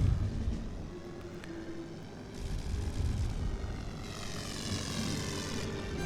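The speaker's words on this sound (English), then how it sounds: "Recon plane incoming." A recon biplane's propeller engine from the WWI strategy game The Great War: Western Front drones steadily throughout, a continuous mid-loud buzzing hum that swells slightly in the second half, with no talk over it.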